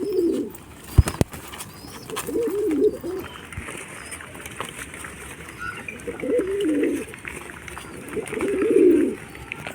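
Pigeons, including a young pigeon chick, coo in several soft, low bursts spread across the stretch, close by, with a sharp knock near the start and faint background hiss.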